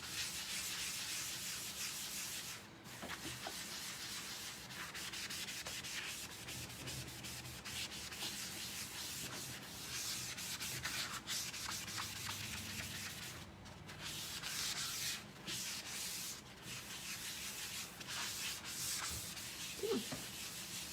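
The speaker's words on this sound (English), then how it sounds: "I'm going to take my board eraser and I'm going to get rid of the rest of that," A board eraser rubs leftover residue off a sign board's surface, making a soft, continuous scrubbing hiss with faint rhythmic strokes, quiet and close, with no talk.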